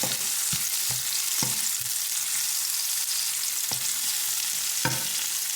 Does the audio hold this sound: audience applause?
no